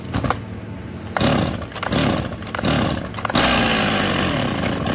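A Stihl 024 AV chainsaw is pulled several times in short loud bursts, then its engine catches and roars steadily at close range.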